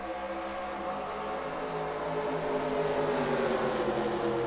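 A pack of race car engines droning together at the start of a stock car race in a racing video game, a dense steady roar with rising and shifting engine tones.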